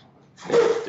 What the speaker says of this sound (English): He just sneezed.